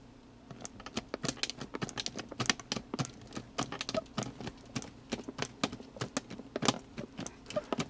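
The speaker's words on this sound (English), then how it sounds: "What you're hearing is the flexing of the hinge by the clasp that is holding the base to the top." An old case's hinge flexes against its clasp as the lid is lifted, making a quiet, rapid series of small clicks and ticks like light tapping, close and faint with no talking.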